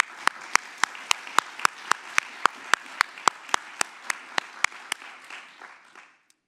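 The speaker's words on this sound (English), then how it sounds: "big round of applause." Rhythmic applause at an academic conference opening, a crowd clapping in unison with sharp regular beats, roughly twenty evenly spaced claps over a steady wash of hands, fading out toward the end.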